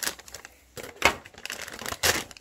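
Scissors cut into a plastic bag of potting soil, giving close, crinkly bursts of rustling with a few sharper crunching snips spaced unevenly across the moment.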